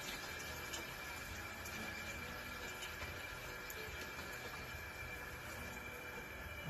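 Water runs steadily into a cooking pot to top it off before boiling, a continuous even rushing pour that holds at the same level throughout with no voices.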